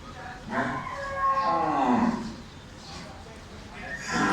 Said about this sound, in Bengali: শাহিওয়াল গরু